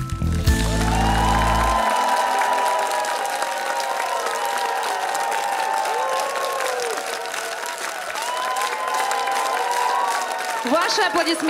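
Studio audience on the Belarusian TV show "Two Stars" gives sustained, loud applause with some cheering, steady for the whole stretch after a song's final bars fade at the start.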